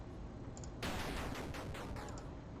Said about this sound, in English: I had some like cluster explosions too